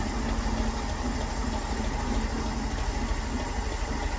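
Land Rover Series with a 2.25 TDI diesel engine idling while warming up with the block still cold, a steady close-up rhythmic chug and vibration with no talking.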